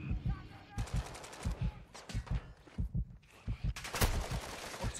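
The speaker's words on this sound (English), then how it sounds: "I'm taking effective fire." Gunfire in the DMZ video game: repeated bursts of automatic weapon fire with sharp close shots, chattering in rapid clusters across the whole stretch, loud and punchy with little pause between volleys.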